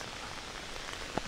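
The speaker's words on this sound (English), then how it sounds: "Of course, now it just started raining" Rain beginning to fall outdoors beside a church rain garden, a soft steady hiss of light drops across the whole stretch with one brief sharper patter near the end, no voices.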